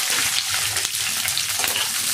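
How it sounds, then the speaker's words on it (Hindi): Chopped onion and capsicum fry in hot oil with a steady crackling sizzle and soft stirring scrapes, close and continuous, no talking. "अभी जो है प्याज और शिमला मिर्च को थोड़ा सा भून लेते हैं"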